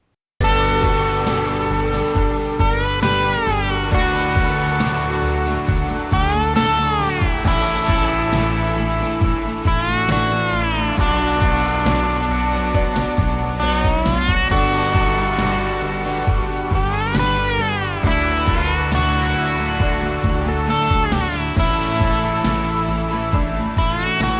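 Slide guitar lines bend and glide over a full, steady band backing, bathed in a lush ambient reverb with pre-delay that lets each note bloom and sustain, loud and continuous.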